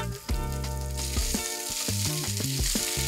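Boiled, diced potatoes with salt, red chili powder and turmeric powder being mixed in a pan, a steady sizzle under a run of scraping and knocking stirring strokes, close up with no speech.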